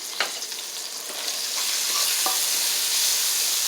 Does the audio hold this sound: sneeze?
no